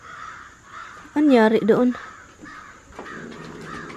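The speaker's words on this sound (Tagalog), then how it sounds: "Ang daming uwak." A flock of crows caws loudly nearby, a burst of harsh overlapping calls in the middle with fainter caws before and after, while people talk outdoors.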